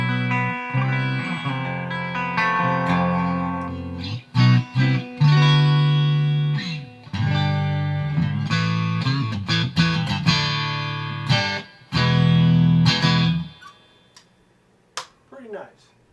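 A coil-tapped Stratocaster through the clean channel of a Carvin X100B amplifier, strummed chords and bright ringing notes played close and loud, with short breaks between phrases and a last chord that decays into scattered quiet plucks.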